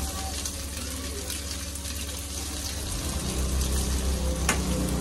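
Bitter gourd frying in mustard oil in a home kitchen, a steady close crackle and sizzle that grows slightly louder partway through, with no talking.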